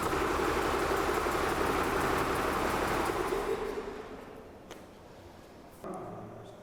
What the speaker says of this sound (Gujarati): આપણે એન્જિનને સ્ટાર્ટ કરી તેના ન્યુમેટિક ગવર્નરને આઇડલ સ્પીડ એડજસ્ટ કરી અને એના આરપીએમ મેજર કર્યા